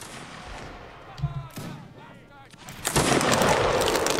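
Musket volleys in a Napoleonic Wars siege battle in Mount & Blade Warband, with a few scattered shots followed by a loud, sustained burst of gunfire and noise close by.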